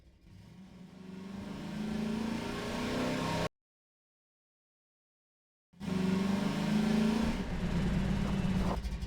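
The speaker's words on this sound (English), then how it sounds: "Buggy sound engine." Dune buggy engine from Half-Life 2 revs hard and steady for about three and a half seconds, cuts to silence for two seconds, then roars back even louder with rising, whirring intensity. Close and alone, with no talk.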